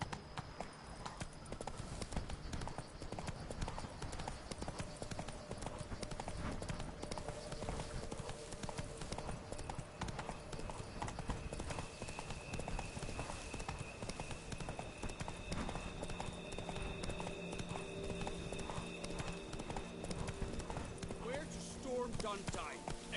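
Roach, Geralt's horse in The Witcher 3: Wild Hunt, gallops with a steady, rapid clip-clop of hooves. Game music and ambience sit underneath, and voices speak over it at times.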